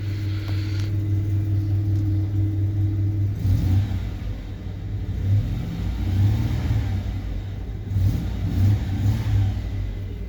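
A 1991 Ford Aerostar XL engine idles with a low, steady rumble, then is revved a few times, each rise swelling and settling back to idle.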